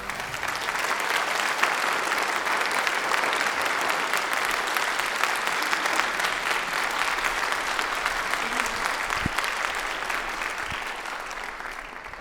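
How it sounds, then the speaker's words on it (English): Applause from the audience at a Raleigh fire academy graduation ceremony, a steady, fairly distant wash of many hands clapping that holds evenly for over twelve seconds. "Let's also give them a round of applause."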